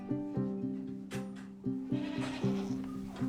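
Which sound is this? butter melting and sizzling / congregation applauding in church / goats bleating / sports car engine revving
goats bleating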